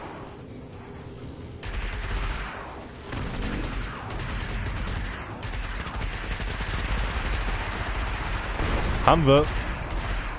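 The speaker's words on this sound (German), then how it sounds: "Irgendwas schießt da ganz böse." Heavy gunfire in the video game Destiny rattles on in sustained volleys, fairly loud and a little distant, while someone speaks briefly over it.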